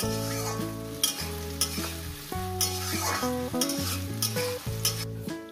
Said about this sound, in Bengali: পেঁয়াজটাকে আমি সুন্দর করে লাল লাল করে ভেজে নিচ্ছি, একদম বেরেস্তা করে দেব